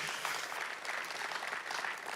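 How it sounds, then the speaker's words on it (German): A church congregation claps in a short burst of applause, dense and steady from a large room, with no speech over it. "So, lasst uns Applaus geben"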